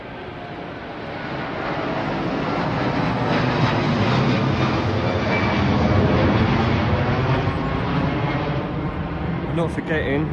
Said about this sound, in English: Not forgetting, not being too far from Heathrow, we're still underneath the flight path.